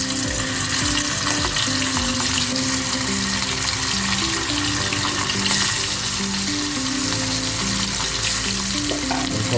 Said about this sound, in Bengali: আমি মাছগুলো ভেজে নেব। আমরা একটু অপেক্ষা করি তেলটা গরম হওয়ার জন্য।